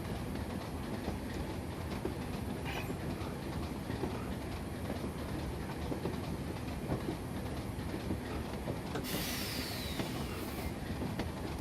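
A train runs downhill on the Weardale line in the Train Simulator video game, with a steady loud rumble and continuous clickety-clack of wheels on rails, with no voices throughout.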